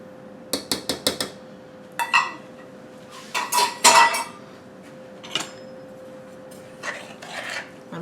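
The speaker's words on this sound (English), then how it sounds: "I'm going to stir this up" A spoon scrapes and clinks against a cooking pot while stirring cherry filling with sugar and cornstarch, giving a quick run of sharp taps and then irregular scraping bursts, close and clear with no talking.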